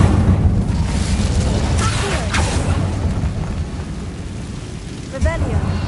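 A magical Incendio fire spell fires in the Hogwarts Legacy video game with a loud whooshing burst amid a rumbling, noisy mix, and a voice calls out over it.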